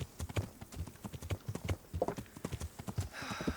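Horse walking in Kingdom Come: Deliverance, with a run of close, rhythmic hoof clops on the ground, moderately loud and continuous with no talking.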